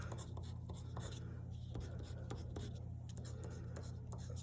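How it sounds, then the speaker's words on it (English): A white colored pencil is drawn across paper while a Charlie Harper style cardinal picture is made, giving quick, close, scratchy strokes in an irregular rhythm over a low steady hum. "I'm just going to use my white colored pencil because that's what I have near me right now."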